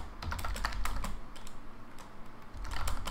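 Rapid, furious typing on a computer keyboard during an Age of Empires 2 match, a dense stream of clicky keystrokes with brief pauses, close and distinct with no voices.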